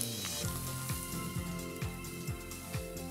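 Red onions sizzling steadily in warm olive oil in a pan over medium heat, a continuous soft crackle with light dish and utensil clatter, no talking.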